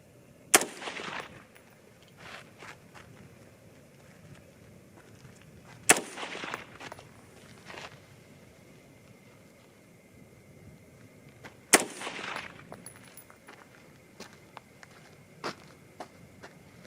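An AR rifle chambered in 224 Valkyrie or 6.8 SPC II fires three single shots at a range, each a sharp loud crack with a short echoing tail, spaced about six seconds apart, with faint background rattles between.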